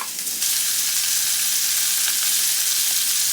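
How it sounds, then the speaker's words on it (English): Bacon frying in a pan over medium heat for omurice gives a steady, bright crackling sizzle that stays dense and even throughout, with no voices. "add the bacon and cook over medium to medium low heat until the fat starts to render out"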